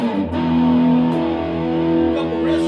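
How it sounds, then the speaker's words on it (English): An Epiphone Slash signature electric guitar plays sustained, crunchy distorted chords and riff notes, loud and steady throughout with no talking. "I'm gonna turn on this distortion and hit you a couple riffs"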